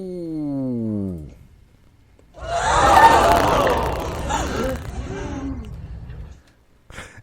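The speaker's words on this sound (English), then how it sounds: "the crowd was shocked by that one" A shocked studio-style crowd reaction sound effect, a loud collective gasp and murmur swelling for about four seconds before cutting off, preceded by a short falling tone.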